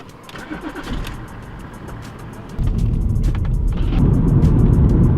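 A 2004 BMW 330d's M57N diesel engine cranks and catches, settling into a loud, steady low rumble that grows stronger and stays close throughout.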